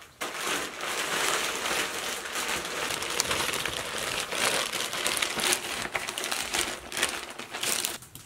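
Fresh, still-soft chaga mushroom being chopped into smaller pieces makes dense, continuous crunching and crackling close by, with rough bursts of scraping and no voices.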